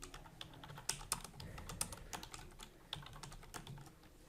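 Close computer keyboard typing of a poll question, a quick uneven run of clicky keystrokes with a few sharper key hits, no voice present.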